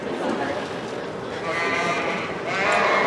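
Columbia sheep bleat in a state fair FFA show ring, with loud, wavering, drawn-out cries from several animals close by, the calls overlapping and rising toward the end.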